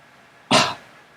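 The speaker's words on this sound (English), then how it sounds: "Cough, but there's no one around, so you don't have to cover your mouth" A single short, sharp cough from a man, close and loud, bursting out and trailing off quickly in an otherwise quiet room.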